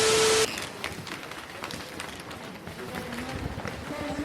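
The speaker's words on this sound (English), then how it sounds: "That's the sound of the squeaking floors as we go through the rooms of Louis XIV." Wooden floors squeak underfoot as people walk through the rooms of Louis XIV, with shuffling steps and faint creaks over a murmur of voices and a busy room tone.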